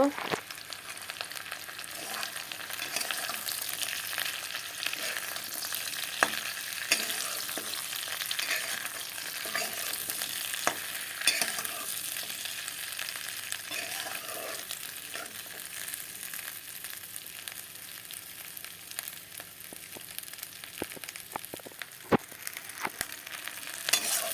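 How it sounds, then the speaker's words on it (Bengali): Capsicum, potatoes and onions fry together in a pan, giving a steady, close sizzle that lasts throughout, broken by occasional scraping and stirring knocks, with no talking. "ক্যাপসিকাম আলুর সাথে ঢেলে দিয়েছি এখন পেঁয়াজগুলোকেও ভেজে নেব"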